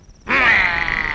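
A person imitates a cow and calf mooing: one loud, close, sustained low call that begins abruptly after a brief quiet moment and holds steady to the end.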